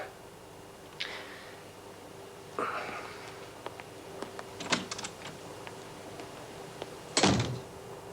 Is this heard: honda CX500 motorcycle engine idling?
no